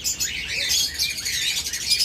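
Cockatiels, new adult birds at a farm sale, chirp and tweet in quick, overlapping high calls that run steadily throughout, close by and fairly loud with no talk.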